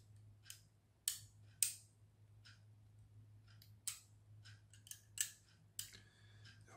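A knife cutting and snapping a 3D printed catapult part on a cutting board, giving sharp, isolated clicks and cracks spaced irregularly over a low steady hum, close and fairly quiet.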